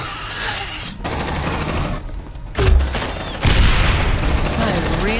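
Gun in Aliens Dark Descent firing loud, rapid automatic bursts, with short pauses between volleys and heavy thumping impacts, intense and close.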